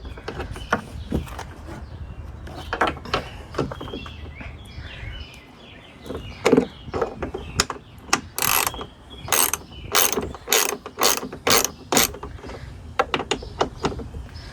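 A hand ratchet loosens bolts on a Honda Pioneer side-by-side during a rattle fix, giving loud, close bursts of rapid clicking pawl strokes, some short and some sustained, with brief pauses between pulls.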